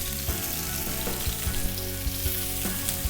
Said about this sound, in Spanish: lo echamos a la sartén y vamos a dorar nuestros cuadraditos de guarnición